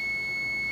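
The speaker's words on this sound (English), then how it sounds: "there's my timer." A kitchen timer beeps with a steady high-pitched electronic tone, clear over quiet room noise, held for under a second with no talk.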